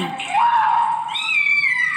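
A cat being bathed in a tub meows in a long, rising, drawn-out cry that stays up close and fairly loud through the moment, alone without talk.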